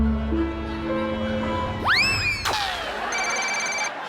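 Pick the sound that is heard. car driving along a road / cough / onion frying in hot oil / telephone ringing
telephone ringing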